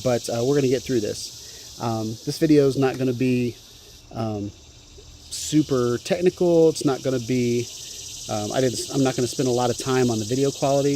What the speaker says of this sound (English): There's a cicada in the background that's driving me nuts